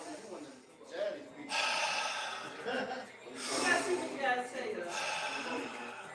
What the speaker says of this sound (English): Stop panicking, James, deep breath.